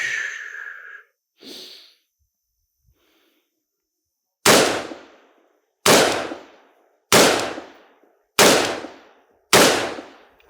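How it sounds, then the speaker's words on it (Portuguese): A 5.56 rifle fires five M193 rounds, each a loud, sharp crack with a quick decaying tail, spaced about a second apart after a few brief, faint sounds at the start. "Então, 5 disparos de M193 e agora 5 disparos de SS-109."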